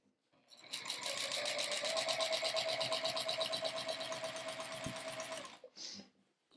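A domestic sewing machine stitches a straight row across a quilt, running steadily and loudly for about five seconds with a fast, even needle rhythm before stopping, followed by a brief soft handling noise.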